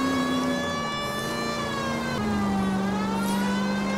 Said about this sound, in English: Oh, I like how I didn't have to turn the siren on.